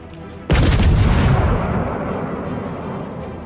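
Enemy warships fire their naval guns in World of Warships: one loud, close blast hits suddenly and then rolls into a long, heavy rumble that slowly fades.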